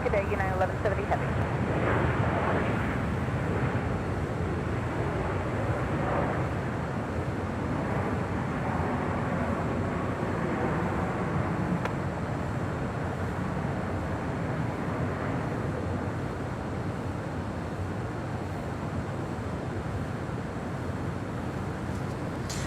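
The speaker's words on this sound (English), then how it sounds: "That was United Airlines flight 564 coming in from Denver on that 757-300" A United Airlines Boeing 757-300 arriving at LAX from Denver gives a steady, broadband jet roar that holds loud and even throughout, mixed with wind buffeting on the microphone.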